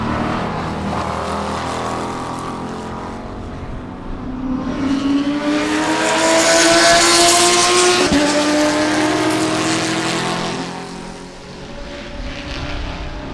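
GT and Spec Corvette race cars, including a Lamborghini, roar past on the Sebring track, rising to a loud high-pitched whine as they pass close, then fading as others follow behind.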